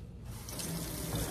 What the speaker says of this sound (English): we're gonna rinse it really well under cold water